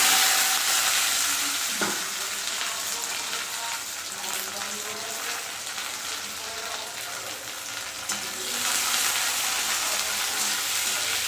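Black cumin seeds, garlic and green chili sizzle steadily in hot oil, a dense, continuous frying hiss with a brief clatter of stirring near the start and again around eight seconds.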